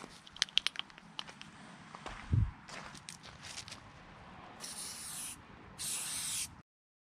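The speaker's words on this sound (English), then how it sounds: "give it a coat with the rubberized paint" Rubberized paint sprayed from an aerosol can onto a Mazda gas tank, with short hissing bursts, a clatter and rattles, then two longer sustained hisses close by before the sound cuts to silence.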